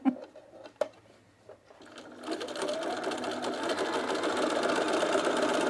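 A cover stitch sewing machine runs steadily, sewing picot elastic onto underwear, after a few clicks and handling bumps; the motor's continuous whir holds close and even to the end.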